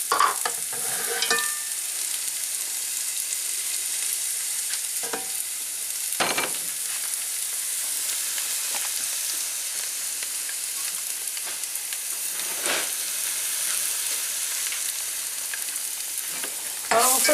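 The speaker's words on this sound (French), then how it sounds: "Alors vous faites suer les oignons." Chopped onions sweating in olive oil in a pan, a steady close sizzle throughout with occasional scraping stirs, no voices.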